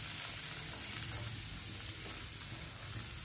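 Bottle gourd frying over a high flame for a sweet, giving a steady, dense sizzle that holds evenly throughout, close and continuous with no voices.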